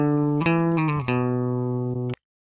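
A sustained, harmonically rich electric guitar tone with a few picked note changes, ringing steadily then cut off abruptly, heard alone without talk.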